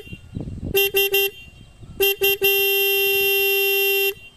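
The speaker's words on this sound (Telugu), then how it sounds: "హార్న్ యొక్క లౌడ్నెస్ అనేది ఒకసారి చెక్ చేద్దాం" A Bajaj Pulsar NS125 motorcycle horn sounds loud and close: three short honks, a brief pause, two more quick honks, then one long steady blast of almost two seconds. No voices.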